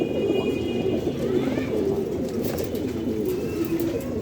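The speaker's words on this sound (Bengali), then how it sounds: "এই দামাসিন রেড চেকার, এক জোড়া দামাসিন, সর্বোচ্চ বড় সাইজ।" A pair of large Damascene red checker pigeons coo steadily nearby, low rolling coos repeating over a few seconds with light background hiss.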